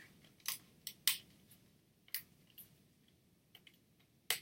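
Sharp, irregular snips of scissors cutting through stiff plastic CD packaging, close by, with crisp clicks separated by quiet gaps.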